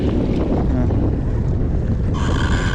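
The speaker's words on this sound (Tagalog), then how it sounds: "Oh, galit na galit yung alon, no?" Rough sea waves and strong wind buffeting a fishing kayak off the Philippines, a loud constant roar of wind noise on the microphone over sloshing water, steady throughout with no talk.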